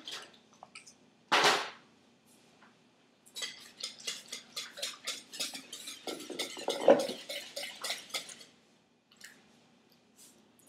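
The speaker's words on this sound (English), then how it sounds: "I'm just going to whisk it before I add it in." Egg mixture for French toast is whisked in a bowl, a quick run of rhythmic clicking and tapping strokes that follows a single sharp clatter, close and fairly quiet with no talking.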